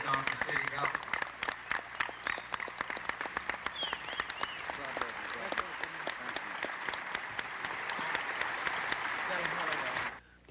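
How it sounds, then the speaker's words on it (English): Audience in Mobile's Municipal Auditorium giving the governor a round of applause: dense, steady clapping from a large crowd, sustained for about ten seconds before cutting off abruptly. "let's give the governor one more round of applause for what he's done for city government."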